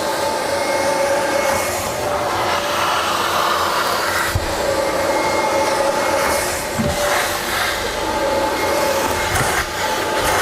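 A carpet extraction vacuum drones loudly and steadily as it is passed back and forth across carpet, a constant close whine and rush with no talk.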